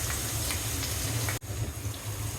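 Chopped onion dropped into hot oil in a pan, a steady close sizzle and hiss with a brief dip partway through as the pieces go in, then continuing to fry evenly.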